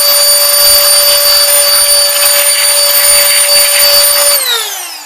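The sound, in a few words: Canless Air O2 Hurricane electric air duster blowing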